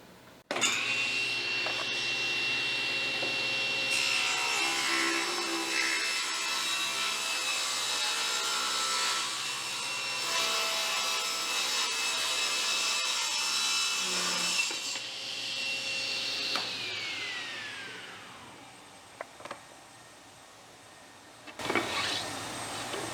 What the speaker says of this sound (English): I'm going to finish ripping these other couple of boards